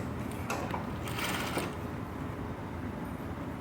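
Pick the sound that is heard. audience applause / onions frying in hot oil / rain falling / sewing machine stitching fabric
sewing machine stitching fabric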